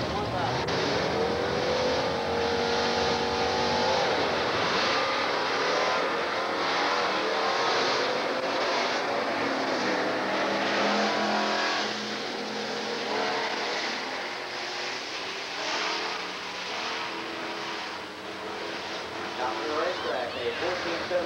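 Drag race cars launch down the Wheels Dragway in San Angelo, Texas, a sustained roar of engines revving and pulling away, heard from the track side under continuous announcer commentary.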